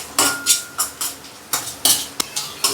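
Metal spoon scraping and knocking around a pan while cashew curry is stirred, about ten separate clinks and scrapes at a steady rhythm, close and moderately loud, with no talk.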